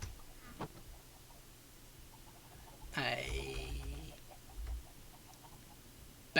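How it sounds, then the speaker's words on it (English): Chickens cluck and shuffle in a Minecraft chicken farm, with a brief louder burst of clucking and fluttering midway over faint, steady background game noise. "battery chicken reactor that I mostly use to generate feathers"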